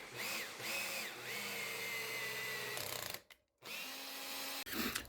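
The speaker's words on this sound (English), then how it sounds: "I'm using a helical flute machine tap in a battery drill with a little cutting lubricant" A battery drill drives a helical flute machine tap with cutting lubricant, cutting threads into a metal bending iron: a loud, close motor whine that rises and falls with load, stops briefly, then runs again.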